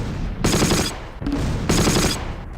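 Two loud bursts of automatic gunfire from a flak gun in the Close Combat wartime strategy game, each lasting about half a second, close and harsh over a constant low background rumble.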